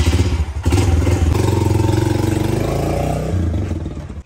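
A motorcycle fitted with a tail box idles loud and close, its engine thumping steadily with a short rev and some mechanical clatter in a quick burst.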